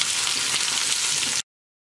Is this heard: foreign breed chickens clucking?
no